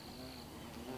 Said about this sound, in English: Look at that bee. Looks like bees really like pollen.